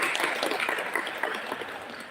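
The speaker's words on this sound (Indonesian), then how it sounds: "Boleh saya dengar sekali lagi tepuk tangan semuanya." Audience clapping at a parenting seminar, a short burst of applause from a room of listeners, moderately faint and fairly even across the whole moment.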